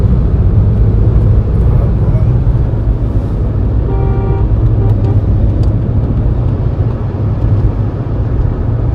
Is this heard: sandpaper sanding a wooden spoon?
no